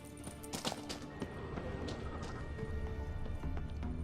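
Hooves of Kelpie, a horse in the video game The Witcher 3, clopping in a steady rhythm amid ambient game sound, with a few sharper clatters near the start.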